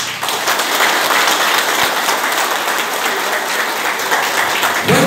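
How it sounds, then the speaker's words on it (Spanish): Loud, sustained applause from a large audience at a 2022 local government accountability gathering in Juma Bejucal, a thick unbroken wash of clapping that continues for several seconds. "Fuerte el aplauso, que se sienta, señoras y señores."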